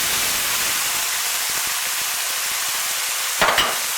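Pureed tomatoes hit translucent onions in a hot pan for spaghetti marinara, giving a loud, constant sizzle with scattered crackles and a brief louder burst of spitting near the end; nobody speaks.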